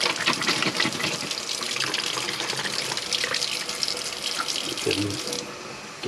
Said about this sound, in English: I'll take a little bit of water, add it to it